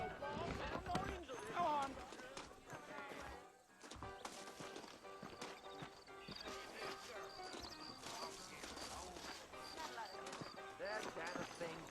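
Clip-clopping horse hooves in a Red Dead Redemption game scene, mixed with music and voices talking throughout, with a brief dip in sound partway through.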